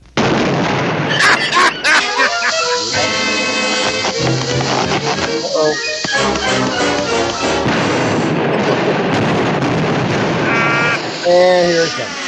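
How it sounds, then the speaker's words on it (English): A long, dense run of explosions and bursts pops and crashes loudly and almost without a break for about twelve seconds. Voices are mixed into the din. "sit back and relax and enjoy 80 explosions"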